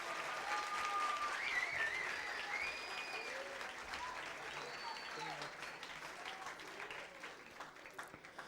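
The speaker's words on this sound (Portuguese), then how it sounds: "Uma salva de palmas aí para os atores" Audience applause for actors after a comedy sketch, a steady dense wash of clapping from a live crowd that continues for several seconds, with a faint whistle-like tone over it early on.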